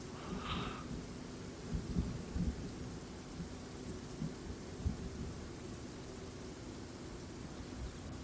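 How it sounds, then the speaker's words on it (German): Rain and low rumbling thunder in the Train Sim World 3 game on the Kassel to Würzburg route, heard as a faint steady hiss of rain with soft, distant, irregular rolls of thunder. "Und es donnert sogar ein bisschen."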